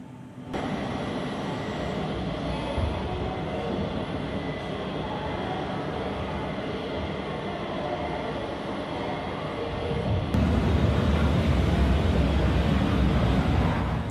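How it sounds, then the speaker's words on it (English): A train rumbles past nearby, a steady rolling roar that swells louder toward the end, heard outdoors while a British Airways plane sits in the background on a winter day. "Oh, and a train."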